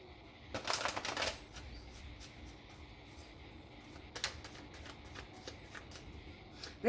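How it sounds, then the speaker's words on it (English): Astrological cards being shuffled in two bursts of riffling and slapping, a louder flurry near the start and a shorter one later, with faint taps between and no talk over them. "let's get some astrological cards"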